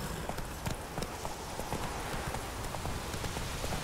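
Hooves of Roach, the horse in the video game The Witcher 3, clip-clop at a fast, steady gait, close and continuous under dense background noise.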